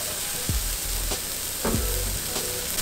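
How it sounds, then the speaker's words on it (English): Steady loud sizzling of minced onions and garlic frying in a pan with mushrooms, with a few scrapes and stirring clatters of a utensil over the hiss. "put those minced onions right into the frying pan with the mushrooms"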